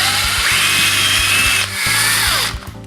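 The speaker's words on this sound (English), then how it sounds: "Gonna drill 4 holes here on either side of the staple" Power drill with a 3/16 doweling bit boring holes while replacing patio door glass, a loud close whine that rises in pitch, dips briefly, then spins back up before winding down.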